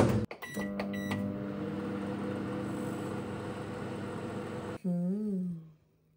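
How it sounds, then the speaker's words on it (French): Microwave oven heating a brownie for 60 seconds: a short rattle and beeps as it starts, then a steady low hum of the running oven that stops abruptly and ends with a series of beeps. "60 secondes au micro-ondes."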